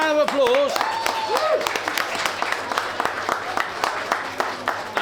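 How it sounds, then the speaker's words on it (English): Warm applause from a crowd celebrating the 2000th driver at a Christmas miniature railway event, a dense steady patter of claps lasting several seconds, with an excited voice calling out over it at the start. "give him a round of applause"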